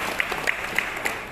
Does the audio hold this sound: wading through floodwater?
no